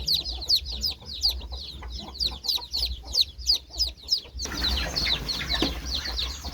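Hen and her chicks clucking and peeping in a rapid, repeated pattern, close by, with a steady low hum beneath and the texture growing busier near the end.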